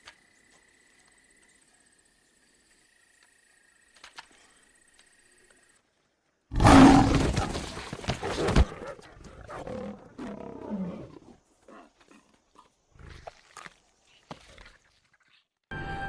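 A lion roars loudly and close while hunting deer, a burst of deep, rough roaring that starts abruptly after near silence and trails off into scattered rustling and lower growls.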